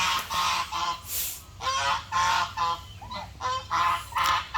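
Pet geese kept in a Thai garden to graze on grass honk in a series of loud, nasal calls, several bursts over about four seconds with short gaps between them.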